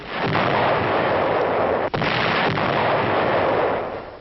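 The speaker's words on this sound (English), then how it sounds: "From Strasbourg, Nazi positions across the Rhine are shelled." Artillery shells German positions across the Rhine from Strasbourg in 1944, heard as a dense, continuous rumble of gunfire and blasts on an old, muffled newsreel track, with one sharp dip midway.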